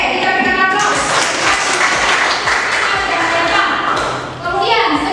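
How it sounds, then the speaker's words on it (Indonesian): A classroom of students applauds, a lively burst of clapping mixed with children's voices and thumps that lasts several seconds before briefly dipping and picking up again. "Oke, kita berikan aplaus."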